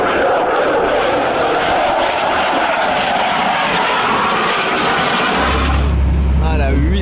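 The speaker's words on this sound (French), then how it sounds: "Le Rafale avec lequel je commence à être familier, hein. Mais bon, c'est toujours aussi ouf de voir et d'entendre ça." A Dassault Rafale fighter jet passes overhead with a loud, tearing roar that fills the air for several seconds, then gives way to a low rumble and other engine noise at close range.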